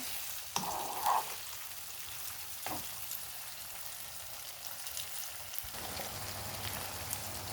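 Albanian-style liver cubes frying in a pan, nearly done, give a steady soft sizzle with faint crackles throughout, plus a couple of brief clatters from stirring near the start.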